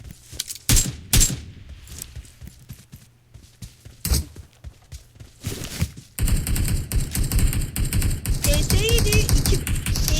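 Gunfire in PUBG Mobile, with sharp single shots and short bursts early on, then a dense, loud stretch of rapid rattling fire, while voices talk over the action.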